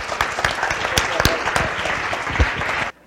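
An audience applauds a panel of experts, close, sharp individual claps standing out over a steady round of clapping that cuts off abruptly near the end.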